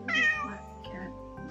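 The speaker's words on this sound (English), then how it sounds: "It's a little black cat." A black cat in a video game gives a single clear, close meow that rises and trails off, followed by a quieter low tonal murmur.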